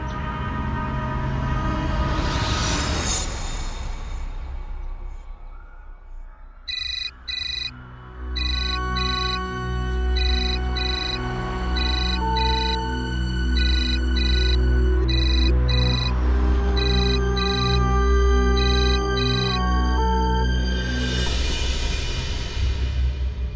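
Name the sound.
phone ringing unanswered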